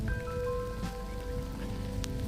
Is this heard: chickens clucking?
no